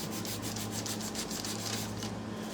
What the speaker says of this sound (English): Sand it down just a pinch. And then sand our letters just a pinch.